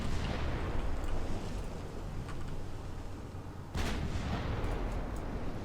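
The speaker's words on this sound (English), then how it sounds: "if we turn away, we can get that rear 10-inch gun firing" A warship's 10-inch gun booms in the Ultimate Admiral: Dreadnoughts naval battle game, a single heavy report cutting in partway through over a constant rumble of sea and battle noise.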